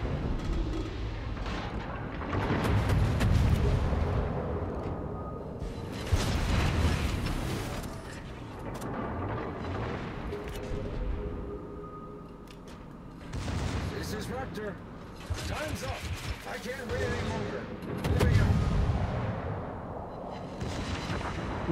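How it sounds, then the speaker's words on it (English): Armor-piercing shells slam in during naval combat in a cruiser warship video game: loud, repeated booming bursts and rumbling impacts that come in several heavy waves over a sustained din of battle. "And those are armor-piercing shells coming in."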